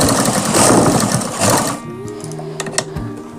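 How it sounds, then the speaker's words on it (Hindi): Sewing machine stitching fabric for palazzo pants, a dense steady whirring run for nearly two seconds that stops, followed by a few faint clicks and handling knocks in a quiet room. "यहाँ पर रखने के बाद यहाँ पर हम एक सिलाई लगाएंगे"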